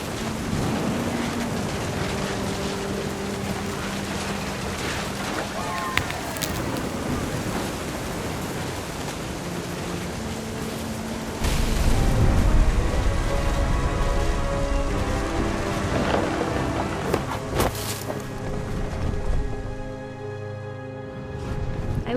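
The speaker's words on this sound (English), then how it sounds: "The thunder sounded much too close and full of angry power" Steady rain and rumbling thunder in the video game What Remains of Edith Finch, a dense wash of rain throughout with a louder, heavier swell of rumble midway, and soft tonal music underneath.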